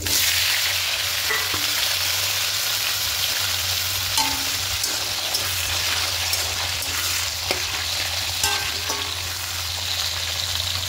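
Green chillies and mixed vegetables sizzle steadily in a hot pan for a vegetarian moong and chana dal dish, a continuous close frying hiss broken by a few light clicks of stirring, with no voices.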